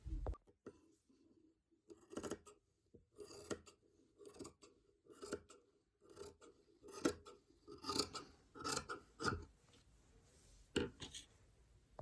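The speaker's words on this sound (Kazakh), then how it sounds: "Мінекей мен артық жердің барлығын қиып алып тастадым" Scissors snip through quilt fabric pieces in a run of close, crisp cuts, single and in short clusters, each a sharp rasping slice separated by brief quiet pauses.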